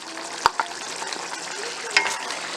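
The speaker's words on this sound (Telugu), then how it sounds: "కలిపేసుకొని ఒక 1 మినిట్ వరకు కొంచెం ఫ్రై చేసుకోవాలి." Egg pulusu with chopped coriander stirred and frying in a pan, giving a steady close sizzle with a couple of sharp clinks of the spoon against the pan.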